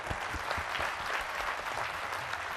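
An audience at a devotional gathering applauds in a steady, dense burst of clapping, even in loudness throughout with no speech.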